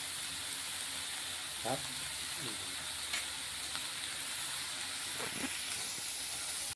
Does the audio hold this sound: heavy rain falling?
no